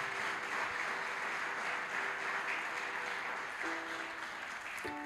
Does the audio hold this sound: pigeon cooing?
no